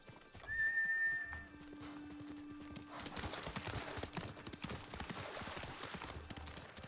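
Horse in the video game Ghost of Tsushima gives a clear whinny near the start, then hooves gallop in a quick steady clip-clop over soft ground for the rest, fairly faint overall.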